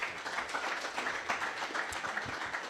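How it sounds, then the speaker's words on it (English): Steady applause from a crowd, a continuous wash of clapping at moderate volume with no voices over it. "You definitely deserve a huge round of applause,"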